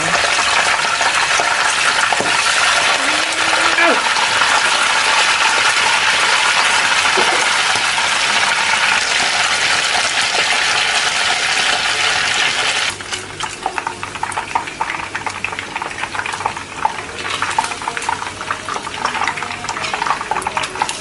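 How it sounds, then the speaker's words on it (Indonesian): Leftover chicken pieces sizzle in hot oil in a wok, a loud steady hissing fry close by, easing slightly in the later part with occasional clinks of a utensil. "kita akan goreng sisa ayamnya tadi"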